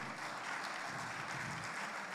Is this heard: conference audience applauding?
yes